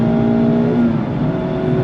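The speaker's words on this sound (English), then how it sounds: "Absolutely love the way that 2-liter straight 4 just revs out all the way to red line" A 2023 Mazda MX-5 RF Miata's 2-liter straight-four engine revs hard and steadily close by to redline, its tone climbing and holding high for the whole stretch.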